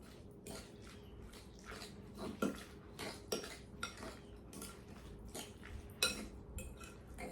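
Guacamole ingredients being stirred in a bowl, a spoon scraping and clinking against the sides in a string of quick, close taps with soft squishy mixing between them.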